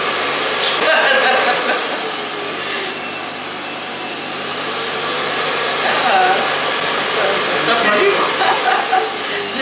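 An Ultenic P30 pet grooming kit blower dryer runs at maximum with a steady, loud whoosh and a high whine that shifts in pitch partway through, close to the microphone with no talking.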